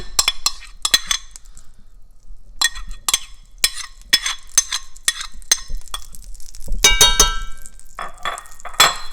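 Lamb going into a pan with coconut oil, with repeated clinks and clatters of cookware and utensils in an irregular rhythm, close by and moderately loud, with a busier burst of rattling near the end.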